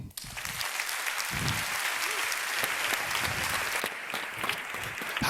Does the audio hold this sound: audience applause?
yes